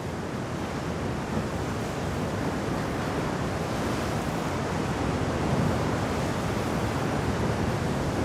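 Roaring sea waves crash and wash against the cliffs at a cliff diving site in Puglia, Italy, a dense continuous surf roar with wind buffeting the microphone and no voices.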